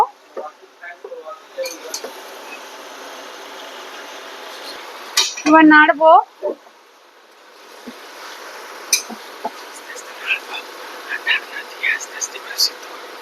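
Chicken pieces are stirred in a metal cooking pan with scattered scraping and clinking utensil knocks and a louder burst of clatter midway, while a voice talks at points.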